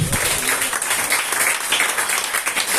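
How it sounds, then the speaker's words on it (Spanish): A church congregation applauds the Lord in a dense, loud, sustained burst of many hands clapping, with no talk over it. "¿Cuántos aplauden al Señor?"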